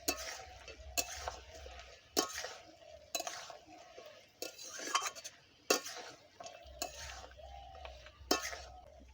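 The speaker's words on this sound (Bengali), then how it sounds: "ভালো করে মিশিয়ে নেব।" Chilli chicken being stirred in a pan, with a spoon or spatula scraping and clinking against the metal in repeated strokes while a soft sizzle runs underneath, close and fairly quiet.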